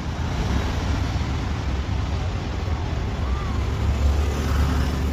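A vehicle travelling on the road back toward Koregaon on a cold-weather village trip, a continuous close rumble of engine and road noise that holds steady throughout.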